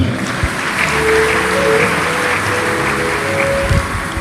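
A church congregation applauding together in praise during a service. The clapping is loud and sustained, with faint tonal sounds and a few voices underneath.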